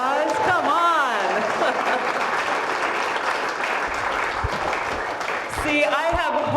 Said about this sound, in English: Give Grace a round of applause